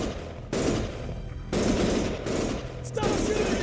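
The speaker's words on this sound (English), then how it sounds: "Stop shooting!" Gunfire in the video game Lost Judgment, sustained loud bursts of automatic weapon fire in three rapid volleys, close and harsh with a steady rattling texture.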